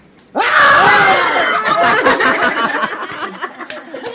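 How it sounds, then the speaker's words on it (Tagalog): A person screams loudly and close on a stormy trip to Puerto Galera, a sudden sustained shriek that breaks into gasping, laughter-like cries amid background commotion. "Sumigaw lang ako."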